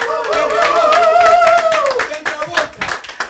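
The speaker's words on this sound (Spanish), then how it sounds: "¡Un aplauso!" Clapping from a television studio audience at a variety show, a handful of hands beating over a held sung or spoken voice, then scattered claps trailing off as the voice stops.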